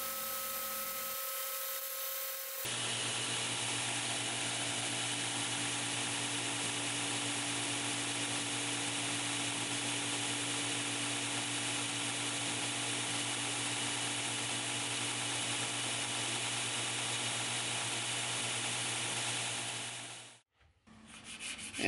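A belt sander with a 36-grit ceramic belt runs steadily against wooden knife scales, a constant loud grinding whir with a motor hum underneath, stopping near the end.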